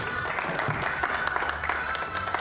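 A crowd at an old Marseille popular dance hall applauds a dancer, steady close clapping from many hands over a short stretch while a voice speaks underneath.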